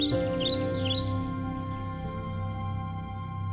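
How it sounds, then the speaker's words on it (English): Birds chirp in a forest, a quick burst of high twittering calls at the start over a sustained low musical drone that carries on after the chirps fade. "the chirping of myriad birds"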